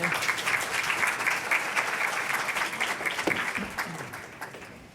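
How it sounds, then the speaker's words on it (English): Steady applause from a forum audience fills the whole stretch, a dense wash of clapping that fades slightly toward the end. "if we want to give them a round of applause"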